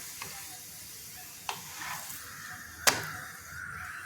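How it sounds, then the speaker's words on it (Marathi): Jowar hurda paratha roasting on a pan while pressed down, giving a soft steady sizzle with a few sharp clicks and scrapes, close and quiet. "असा चांगला दाबून दाबून मस्त भाजून घ्यायचा खरपूस."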